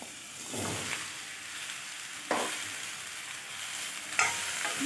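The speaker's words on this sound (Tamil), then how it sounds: "இதை வந்து இந்த சூடான எண்ணெயில் அப்படியே நம்ம சேர்த்துடலாம்." Finely chopped bottle gourd frying in hot oil, a soft continuous sizzle with a few brief louder stirring scrapes spaced a couple of seconds apart.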